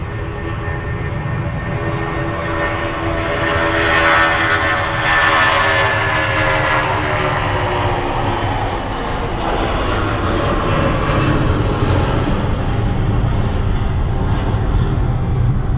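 Loud, continuous roar of jet airliner engines at Manchester Airport, a steady broadband rumble with a whining tone that swells and holds for the whole stretch, close and dominant with no talk.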